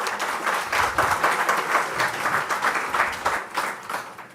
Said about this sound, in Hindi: भाई ताली बजाओ तो जोरदार बजा दो।